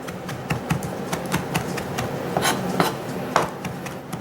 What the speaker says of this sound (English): Nice minced, chopped rosemary, sage, and thyme.